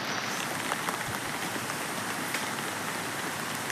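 Steady rain falls on a cashew orchard in the early morning, a dense, continuous hiss of drops pattering on leaves and ground with no pauses, close and even throughout.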